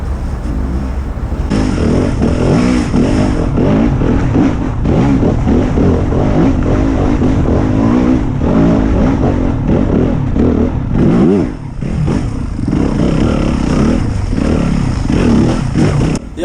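A 2025 Yamaha WR250F enduro motorcycle revving on a wooded enduro trail, its engine loud and continuous throughout with rising and falling revs, close by and with no talking.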